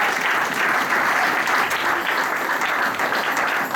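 A congregation at an evangelical crusade service applauds the Lord: dense, continuous clapping and cheering at steady loudness throughout, with no clear individual voices.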